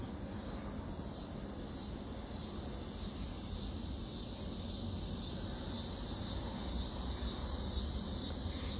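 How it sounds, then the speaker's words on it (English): A steady, pulsing insect drone fills an outdoor scene on a deck, holding a shrill even tone that grows slightly louder over time. "What insect is that?"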